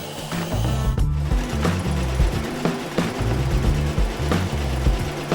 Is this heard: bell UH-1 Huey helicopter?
no